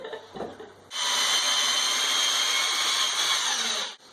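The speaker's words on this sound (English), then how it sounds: "Now you were drilling the holes." A power drill bores holes in wood, whirring loudly and evenly for about three seconds before stopping abruptly, after a few faint handling knocks.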